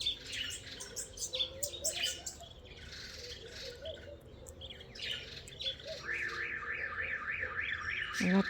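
A car alarm goes off outdoors, its warbling siren sweeping up and down in a rapid repeating pattern that starts partway through, moderately distant, above busy chirping birds and background noise.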